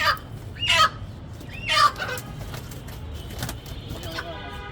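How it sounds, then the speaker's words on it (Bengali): Desi chickens on a Dhaka rooftop cluck and squawk in two loud bursts, with fainter bird calls and a steady background hum between them. "দেশি মুরগি জবাই করা হচ্ছে"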